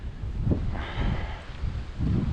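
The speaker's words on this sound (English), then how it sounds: "Windy this morning." Steady gusting wind rushes across the microphone on a morning hike near Hope Bay on the Bruce Trail, with a soft rustle like leaves in trees and low rumbling buffets throughout.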